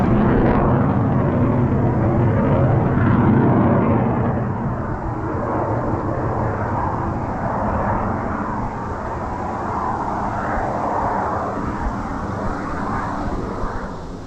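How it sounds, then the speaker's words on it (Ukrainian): F-16 fighter jets flying high overhead above a Swedish forest, a loud, steady broadband jet roar that fills the whole clip, slowly easing off a little after the first few seconds. "вони літають сюди цілими днями типа таке F16 похоже"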